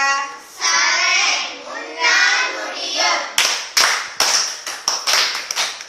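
Children in a classroom applaud a classmate: a few seconds of dense, steady group clapping swells, then breaks into a series of separate, rhythmic claps, with a teacher's voice faintly under it.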